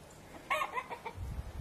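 A few short clucks from chickens near a house, close and fairly clear, with a low rumbling background rising toward the end.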